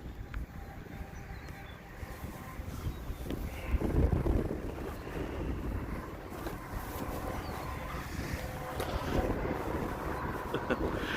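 Gusty wind buffets the microphone at an RC airfield, a rough low rumble that rises and falls in bursts, with occasional faint talk underneath.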